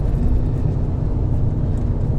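BMW M5 F90 engine pulling hard under throttle through a corner, a steady loud low rumble with road and wind noise blending in, continuous with no talk.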